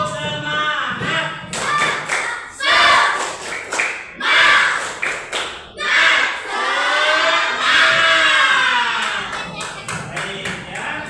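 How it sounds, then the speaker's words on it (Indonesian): A class group does the tepuk semangat spirit clap: rhythmic bursts of hand claps and thumps, with children chanting and shouting along in a loud, lively room. "Oke, sekarang kita tepuk semangat lagi."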